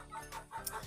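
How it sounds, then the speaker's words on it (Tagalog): Short burst of hen clucking, several quick calls close by, fairly quiet. "Ang ingay ng mga manok namin ngayon"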